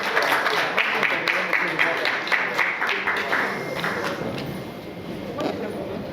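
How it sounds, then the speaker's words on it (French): Steady studio audience applause on a French reality TV dinner show, with dense clapping that holds throughout, slightly tapering toward the end, with some voices mixed in. "On applaudit, s'il vous plaît."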